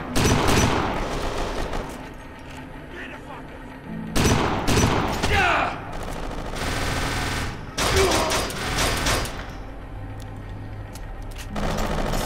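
Shotgun blasts in the video game Kane and Lynch 2: Dog Days, a fierce firefight with several loud booming shots and clattering gunfire spaced through the stretch, close and dense, with game sounds filling the gaps.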